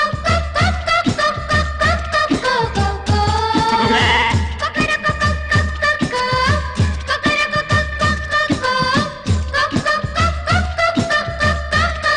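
Goats bleat repeatedly over a lively, rhythmic Tamil village song with a steady pulsing beat.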